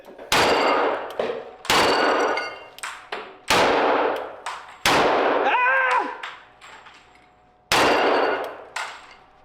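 Firearm shots at an upscale shooting pavilion, a series of loud sharp bangs at uneven intervals with ringing decay, lighter metallic clinks and knocks between them, and a brief squeaky sound mid-sequence.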